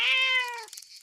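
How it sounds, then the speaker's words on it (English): A single clear digital cat meow in a video game, rising then gently falling in pitch and fading after about half a second, heard up close with nothing else over it. "I have no idea what to feed a cat, let alone a digital one."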